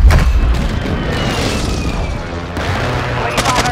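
Airstrike explosions in Call of Duty Warzone 2 roll as continuous heavy booms and crackling blasts, loud and sustained with a fresh burst near the end, while a voice speaks over the barrage.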